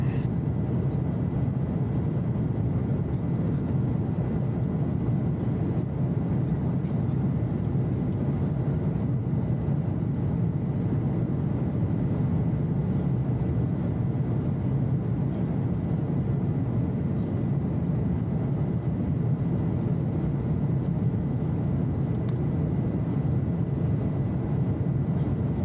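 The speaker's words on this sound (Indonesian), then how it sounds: "Menjelang pagi, pesawat sudah terbang meninggalkan Bandara Soekarno-Hatta." A passenger airplane in flight shortly after leaving Soekarno-Hatta Airport, heard from inside the cabin as a steady, unbroken low engine drone and airflow rumble that lasts throughout, with no talking.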